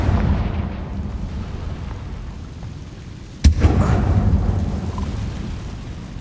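Confringo blasting spell in Hogwarts Legacy, a single sharp explosive crack midway followed by a rumbling burst, set against low, steady background rumble.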